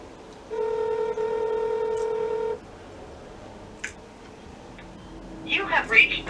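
A phone call rings out as a steady two-second electronic ringback tone, followed by quiet and faint clicks, then a voice starts speaking near the end.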